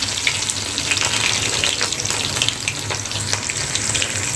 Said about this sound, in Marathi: लगेचच आपल्याला कढीपत्ता आणि लसूण घालायचं आहे